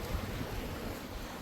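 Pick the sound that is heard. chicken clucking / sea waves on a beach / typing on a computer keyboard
sea waves on a beach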